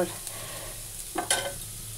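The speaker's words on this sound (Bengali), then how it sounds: "আলু ভাজা বসিয়ে দিয়েছি রুটি খাওয়ার জন্য" Potatoes sizzle quietly in a frying pan while a utensil scrapes and stirs in a few short strokes.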